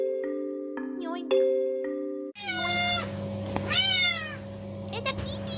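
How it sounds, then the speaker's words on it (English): A cat meows several times in drawn-out, wavering calls after a brief tonal chime, with a low steady hum running beneath and occasional faint speech-like sounds in the background. "It's a kitty!"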